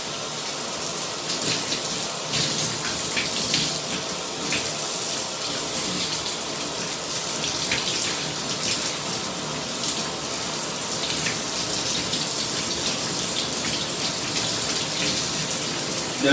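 Steady running water pours through hair as shampoo is rinsed out before a deep conditioner goes on, a continuous close hiss and splash like a shower, with no talking.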